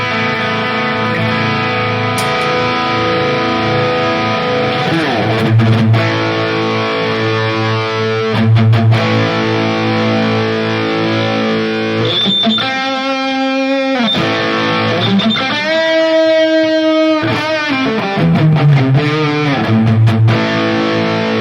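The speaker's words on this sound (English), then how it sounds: "So this is the Plexi without the distortion block." Guitar through the Plexi amp model of a Valeton GP-200 with the distortion block off, a long stretch of chords, bends and sliding lead notes played loud and close, with no voices.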